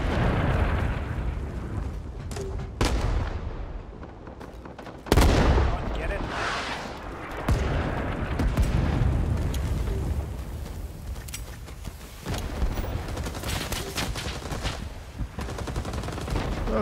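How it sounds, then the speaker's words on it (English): In the Vietnam War game Rising Storm 2: Vietnam, machine-gun bursts rattle close by, mixed with heavy gunfire and booming blasts in an intense, continuous battle soundscape. "Somebody's shooting machine gun right over my head."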